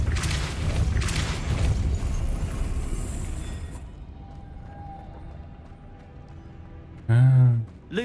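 A spell called Depulso is cast in a Harry Potter video game, heard as a heavy booming blast that rumbles and fades over several seconds. A short burst of voice follows near the end.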